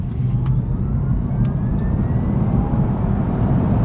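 A BMW i3 facelift electric car with the 94 Ah battery accelerating hard onto a motorway, a loud continuous rumble of road and wind noise with a faint rising whine, no talking.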